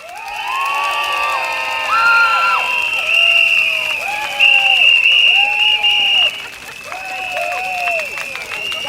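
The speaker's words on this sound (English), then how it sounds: "For those of you with clapper, with cheering stick and whistle, let's make some noise!" A crowd at a Bukit Panjang election rally makes noise with clappers, cheering sticks and whistles, loud and continuous, with sliding whistle tones and shrill toots riding over a bed of cheering and clapping.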